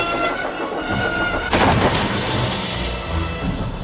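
Thomas the Tank Engine from the Trainz railway game running along the line, a steady loud rumble and wheel clatter that thickens into a brighter hiss midway, with no voices.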